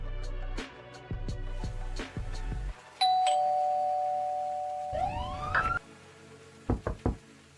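A doorbell rings among repeated knocking, with a long electronic tone and a rising, wailing ring that sounds synthetic, followed by more quick knocks, all close and fairly loud.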